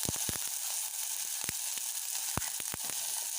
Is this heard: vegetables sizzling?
yes